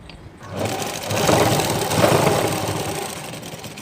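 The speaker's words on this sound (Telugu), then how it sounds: "ఇలా జాయిన్ చేసుకొని టాప్ స్టిచ్ కూడా వేయండి." A sewing machine runs a short burst of top stitching along the back seam of a blouse, its motor whirring up and holding a steady, close rattle for a few seconds before easing off.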